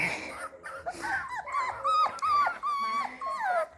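Parson Russell terrier puppies play nearby, giving high yips, whines and little growls in quick bursts with short pauses between them.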